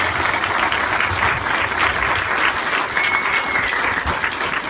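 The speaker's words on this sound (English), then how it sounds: "Let's give her another big round of applause" An audience at a Walk to End Suicide presentation in a park applauds a speaker, with a full, continuous round of clapping from a crowd that holds steady for several seconds.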